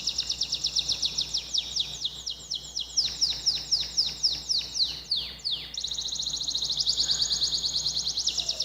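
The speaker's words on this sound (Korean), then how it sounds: "이 카나리아 새소리를 제가 직접 녹음을 했습니다." A canary sings in a home recording, its rapid trills, chirps and rolling phrases running continuously at a steady, fairly close level without pause.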